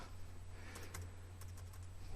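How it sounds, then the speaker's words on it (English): Typing on a broken computer keyboard, a few faint scattered key clicks over a steady low hum, quiet and close. "I was typing in the broken keyboard"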